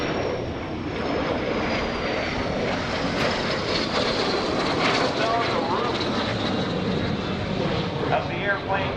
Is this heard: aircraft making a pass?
yes